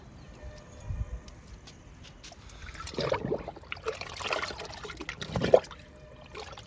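Liquid is poured onto a newly planted guava plant in a home garden, a faint trickle and splash that comes in a few quiet bursts near the microphone.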